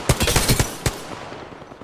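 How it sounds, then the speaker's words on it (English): Gunfire in the video game Apex Legends, a short burst of several rapid, loud shots followed by one more crack and a fading tail. "Shots fired at me."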